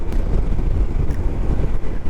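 Strong wind roars and buffets the microphone on an ADV 160 scooter ride up a misty, rainy mountain road in Quezon, a dense low rumble that holds steady throughout with no talk.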